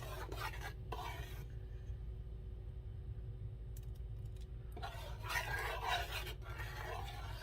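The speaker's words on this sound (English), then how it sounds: "It is now simmering, and I'm just going to continue to stir" Pineapple pear jam simmers in a large pot while a spoon stirs it, soft scraping and thick bubbling in intermittent bursts over a low background rumble, fairly faint and close.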